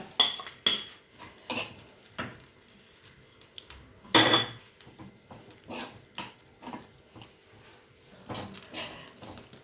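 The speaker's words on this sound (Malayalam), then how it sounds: "തേങ്ങ ഒരു പകുതി ചുവപ്പാവണ വരെ നമ്മളിങ്ങനെ ഇളക്കി ഇളക്കി നിൽക്കണം" A spatula scrapes and clinks in a pan at irregular intervals as grated coconut is roasted, a few sharper knocks standing out against a quiet background.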